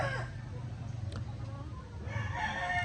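Barred Rock and Rhode Island Red cross chickens crow and cluck in a farmyard, heard at moderate distance over a low steady background hum.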